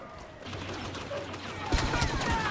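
Gunfire from the Star Wars Battlefront video game comes in rapid bursts of shots over a low background rumble. The firing is thin at first and grows louder and denser in the second half.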